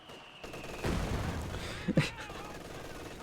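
Dense automatic machine gun fire from a Company of Heroes 2 battle, a steady rattling stream starting around the one-second mark with a couple of sharper cracks, mixed with background battlefield noise.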